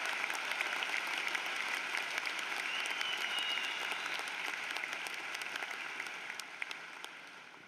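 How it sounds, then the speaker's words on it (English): Large audience at a university commencement ceremony applauds the graduates, a steady, dense clapping that sounds somewhat distant and gradually tapers off over several seconds. "Let's give them a round of applause, folks."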